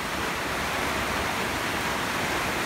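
Heavy rain pouring down steadily in Thailand, the hardest downpour in months, a dense broadband roar that stays constant and loud throughout, with no voices.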